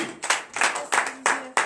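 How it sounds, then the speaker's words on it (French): A church congregation at a morning prayer service in Benin claps together in acclamation, five or six loud, evenly spaced bursts of hand claps close by, with no talking over them. "Donnez l'acclamation à Jésus."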